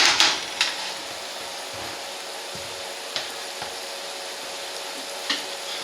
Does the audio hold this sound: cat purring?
no